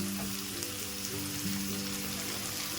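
Tomato pieces and fresh curry leaves sizzle in a pan with a steady, dense crackle that stays even throughout, close up, with a faint low hum underneath.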